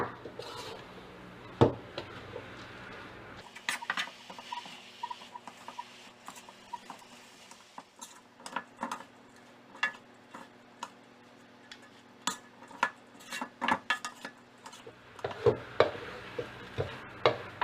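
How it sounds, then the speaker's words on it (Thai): A vegetarian spring roll filling of glass noodles is stir-fried in a pan; a soft, faint sizzle sits under irregular ticks and taps of a utensil against the pan, growing busier toward the end. "ผัดให้เข้ากันค่ะ ให้วุ้นเส้นสุกดีนะคะ"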